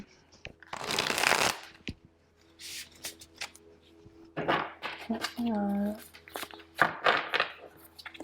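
Tarot cards are shuffled in a quick, crisp riffling burst near the microphone, followed by scattered card flicks and handling noises, with a person speaking in between.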